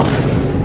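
A short, deep video game combat explosion boom with a rumbling low thud, loud and close, lasting under a second.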